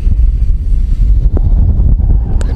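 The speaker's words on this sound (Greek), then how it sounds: "παρότι δυναμώνει ο άνεμος" Strengthening wind buffets the microphone during a Heliway 913 drone flight outdoors, a loud continuous low rumble with gusty swells and a few brief faint tonal blips.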